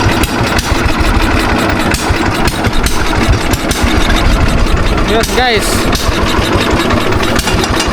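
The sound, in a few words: dying engine sputtering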